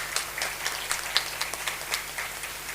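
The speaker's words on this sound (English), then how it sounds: "huge round of applause for the committee." Scattered clapping from a modest crowd at an annual prize distribution ceremony, a steady patter of hand claps with no voices, fairly quiet and slightly distant.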